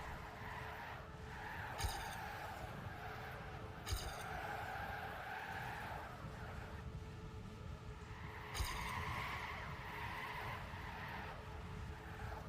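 Race car in the video game TrackMania2, its engine droning steadily throughout with tire skids and screeches breaking in at intervals, game sound alone with no voices.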